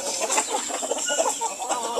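Several chickens cluck and murmur close by in a farmyard, a busy, continuous chatter of short overlapping calls.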